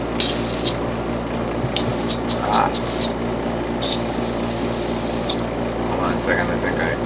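Spray painting a 1/144 HG Gundam Heavy Arms plastic model kit: loud hissing bursts from a spray can or airbrush, several spurts of varying length close by, over a steady compressor or fan drone.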